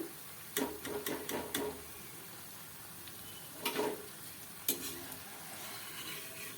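Slices of bitter gourd deep fry in oil with a soft, steady bubbling hiss, broken by short clusters of scraping and clinking as the pieces are turned and lifted out.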